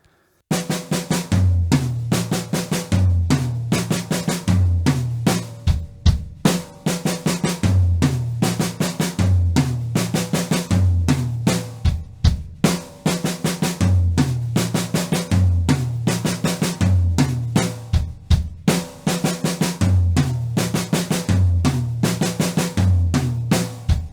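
A drum kit plays a slow six-stroke roll pattern in three-beat groups, ending each phrase with a closing figure. The strokes are loud and close, with a steady rhythm throughout.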